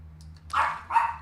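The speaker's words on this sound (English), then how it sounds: "Little baby doggy is barking." Two short barks from a small dog in Oblivion Remastered, a moderately loud woof followed by a second bark about half a second later, over a low steady hum.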